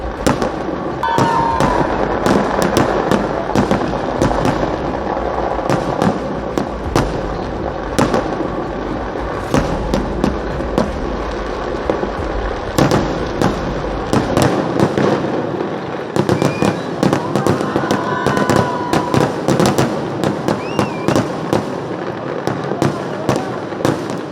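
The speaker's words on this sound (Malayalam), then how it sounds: "ഇതാണ് അല്പസമയം മുമ്പ് അരങ്ങേറിയ സാമ്പിൾ വെടിക്കെട്ട്" A dense sample fireworks display at Thrissur Pooram crackles and bangs nonstop, with rapid sharp bursts and distant booms layered over a continuous roar, plus faint voices in the background.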